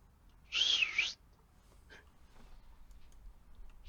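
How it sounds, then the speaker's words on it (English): A person gives one short, bright whistle lasting about half a second with a slight pitch bend, followed by near silence with only faint background noise. "Did he just whistle at me?"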